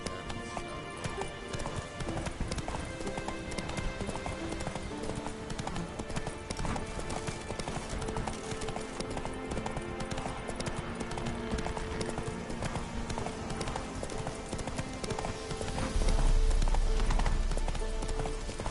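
Roach the horse gallops in The Witcher 3: Blood and Wine, a steady, fast run of hoofbeats heard over a dense game soundscape with music, swelling louder near the end.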